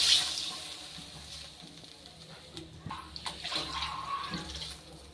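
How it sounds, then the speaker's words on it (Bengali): Water is poured into a pan of hilsa fish curry with brinjal in a home kitchen, making a soft, continuous splashing trickle at close range that fades to quieter sloshing and faint clinks. "এবার দিয়ে দিচ্ছি যতটা ঝোল করবো সেই পরিমাণ জল।"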